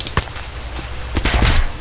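Rapid automatic gunfire in the Jagged Alliance video game crackles in a dense burst of overlapping shots, loud and continuous.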